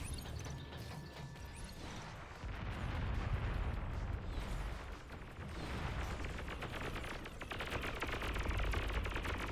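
Dense bursts of rapid gunfire and rattling explosions in the strategy game Beyond All Reason, with bombing runs hitting one spot; the clatter swells and persists across the whole stretch.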